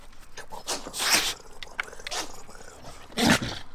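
A dog named Ben gives several quick, sharp sneezes, each a short burst of breathy noise, with quiet snuffling between them indoors.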